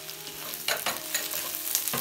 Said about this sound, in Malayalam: ഇത് ഇളക്കി ലൈറ്റായിട്ട് ഗോൾഡൻ ബ്രൗൺ ആകുന്ന വരെ കുക്ക് ചെയ്യാം